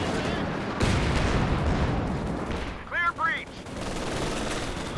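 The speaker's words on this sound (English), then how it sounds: "rifle nades popping off there" Rifle grenades detonate in Company of Heroes 2 amid a dense, rumbling battle din of continuous gunfire and blasts, with a voice briefly talking over it.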